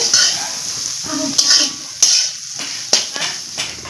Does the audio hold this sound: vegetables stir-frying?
yes